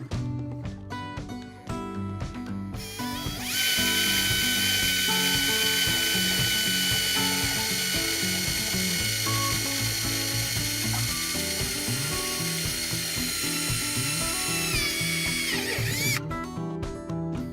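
A power drill drives a screw into the plastic hull of a Hobie Mirage Passport 12.0 kayak, a steady whirring whine held for about twelve seconds between shorter ratcheting clicks, loud and close.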